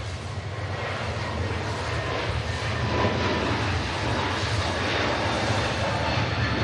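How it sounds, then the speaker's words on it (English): Turkish Airlines jet rolling down the runway on departure at Manchester Airport, a steady loud roar of engine noise holding evenly throughout, no talk. "Turkish is on the departure roll"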